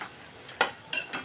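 Spinach wilting in a pan for a spinach, potato and egg curry gives off a low steady simmer, broken by three short scraping stir sounds.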